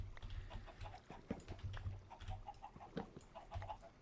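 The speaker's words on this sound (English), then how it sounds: "Chickens are thriving, getting lots of eggs." Chickens clucking in the Minecraft video game, several short quiet clucks and squawks scattered irregularly over a low background, with no talk.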